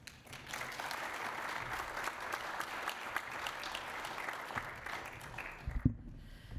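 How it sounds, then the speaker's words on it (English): Warm audience applause at a World Poetry Day reading in a Geelong regional library, sustained clapping from a seated crowd that tapers off near the end with a final soft thump. "needs a huge round of applause"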